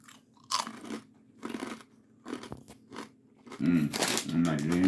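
Close, crisp crunching and chewing of crunchy chicharron comes in several distinct bites, with speech-like voice between and a louder crunchy stretch toward the end.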